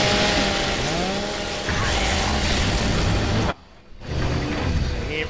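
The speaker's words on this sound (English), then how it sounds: "Oh, Chainsaw!" A chainsaw in a video game revs loudly and steadily for several seconds, cuts out briefly, then roars back up, with a gamer's shouted voice faintly mixed in.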